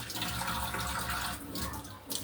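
A kitchen faucet runs steadily into a sink during hand and surface washing, a continuous close hiss and splash with no talking.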